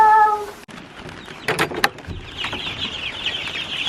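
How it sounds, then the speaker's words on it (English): Chickens in a greenhouse cluck and chirp close by, with scattered short calls and a busy rising flurry of chirps, heard alone with no talk. "when I hear all that chirping"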